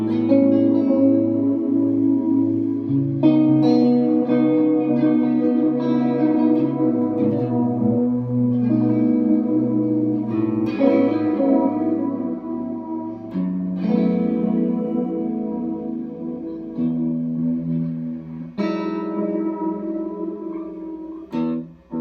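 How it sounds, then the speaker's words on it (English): Electric guitar played through an MXR Carbon Copy analog delay pedal with the mix turned all the way up, sustained chords and notes blurring into thick echoing repeats and warm reverberant tails, no talking. "If you crank the mix way up, you get this."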